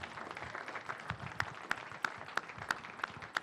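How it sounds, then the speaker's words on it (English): Applause from an audience at a media and democracy event welcomes a speaker, a soft bed of scattered clapping with a few sharp, evenly spaced claps standing out near the front. "We're going to applaud for Bob"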